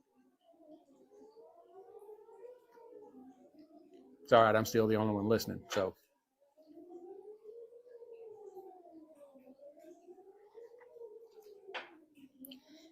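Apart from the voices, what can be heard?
tornado sirens being tested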